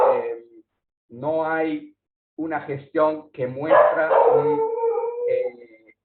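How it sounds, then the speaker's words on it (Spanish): A dog barks and howls in a room during a remote talk in Santa Cruz, Bolivia, its yips and drawn-out howl rising between and beneath a man's Spanish speech at close range. "Disculpen el perro."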